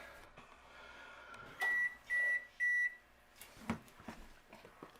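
A kitchen oven beeps three times in a steady row to signal it has finished preheating while bread dough is being kneaded, each tone bright and clear over a quiet room, followed by faint clatter.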